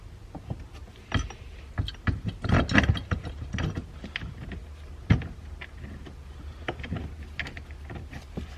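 Ratcheting and metallic clicks from bolting a hydraulic hand brake into a C3 Corvette drift build, with a burst of close, irregular mechanical clatter followed by scattered sharp clicks and knocks, no talking.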